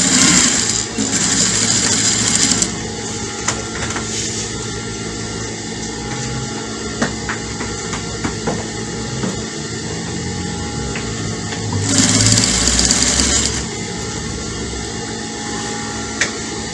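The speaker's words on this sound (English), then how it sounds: "So the machine is going in between these lines, in between the lines." A sewing machine stitches dress fabric with a continuous close mechanical whir, briefly rising in speed and loudness at the start and again near the end.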